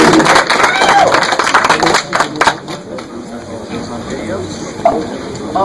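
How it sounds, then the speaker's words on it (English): An audience at a film premiere at the Pan African Film Festival breaks into applause and cheering, loud at first and then fading to scattered clapping and crowd murmur while a voice talks. "let's give a round of applause to April 2nd"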